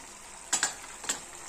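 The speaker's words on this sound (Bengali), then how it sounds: "মশলাটারে বাজা করব" Spice paste (masala) frying in a pan over low flame, a soft steady hiss with a few brief crackling pops standing out, close and quiet.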